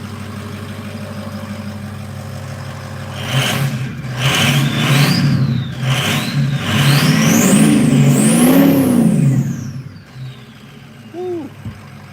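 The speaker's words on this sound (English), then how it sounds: "Give it a little rev." An old diesel engine revved from cold, idling low then rising in several loud surging revs with whining pitch sweeps before cutting back down near the end.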